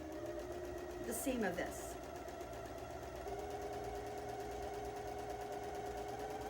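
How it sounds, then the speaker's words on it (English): Sewing machine running steadily, stitching a quarter-inch seam along a quilt block, a continuous mechanical whir throughout with a brief louder burst early on and a voice talking over it. "I'm lowering my presser foot, and I'm going to sew down"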